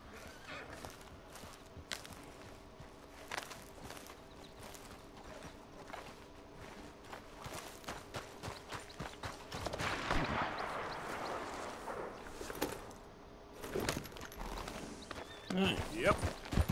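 Steady clip-clopping hooves from a horse at a walk in Red Dead Redemption 2, then quickening into a trot, with scattered clicks and light rustling.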